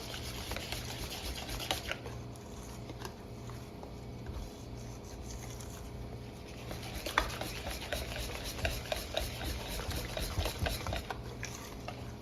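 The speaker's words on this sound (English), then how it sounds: "1 cup of flour. Mix it in. Give it a good beating." Flour being beaten into bread dough in a wobbly bowl, a steady run of rubbing, scraping strokes with soft thumps at close range, with no voices.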